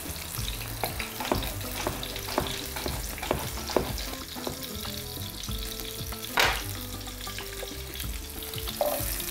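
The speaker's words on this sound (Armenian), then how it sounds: "Նեխուրի ցողունի հետ կտապակեմ նաև բրոկոլի ցողունը" Celery and broccoli stems fry in a pan, a constant close sizzle broken by regular scraping strokes of stirring and a few sharper crackles.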